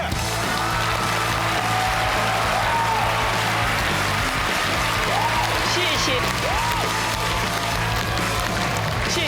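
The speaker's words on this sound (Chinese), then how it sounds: "接下来掌声有请金星女士。" A studio audience at a Chinese TV talk show applauds, with dense, sustained clapping throughout and a voice or music running over it.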